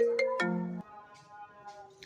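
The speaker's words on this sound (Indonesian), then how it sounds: "Bentar ada telepon" An incoming-call ringtone plays a short melodic phrase of loud electronic notes, then fades into faint tones in a quiet room.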